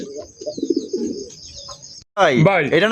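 Pigeons coo close by on a pigeon farm in a run of soft, throaty calls, then one bird lets out a louder, rolling coo right at the microphone.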